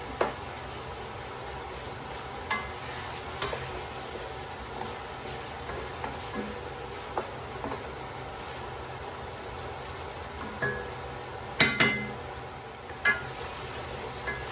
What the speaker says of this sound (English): You constantly stir this and keep mixing it.